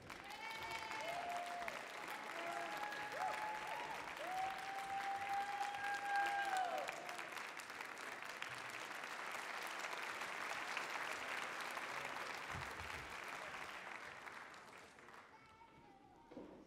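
Audience at a university communication faculty graduation ceremony applauds warmly, a long sustained wash of clapping from a large crowd, with a few cheers and voices early on, fading toward the end.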